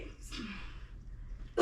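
A person sneezes once, a brief sharp burst from handling a dusty box indoors, followed by a short breathy sound and the start of another loud exhale at the end.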